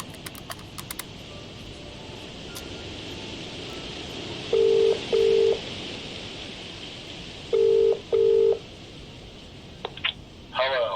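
Telephone keypad tones from a murder mystery video game sound over a low background hum. The beeps come in two pairs of short tones a few seconds apart, followed by faint clicks and a brief rustle at the end.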